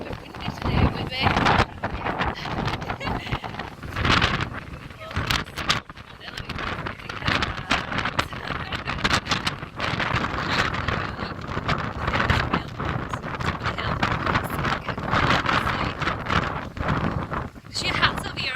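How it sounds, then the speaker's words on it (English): Strong wind gusts buffet the microphone in a seaside town during a goth weekend in Whitby, a steady roar with bursts of louder rumbling while people talk nearby. "Turns out it's been windy today with me."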